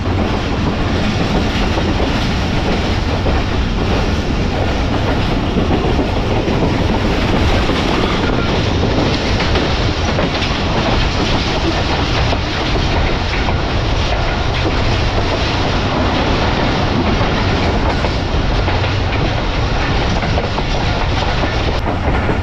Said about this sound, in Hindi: 1:18 पर हमारी ट्रेन जो है वो स्किप करने जा रही है पन्नोकल कैंट रेलवे स्टेशन को